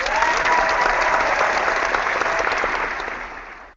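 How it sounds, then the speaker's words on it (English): An audience in a studio show applauding steadily, a thick wash of clapping and light crowd noise that holds for a few seconds, then cuts off abruptly at the end. "another round of applause for you"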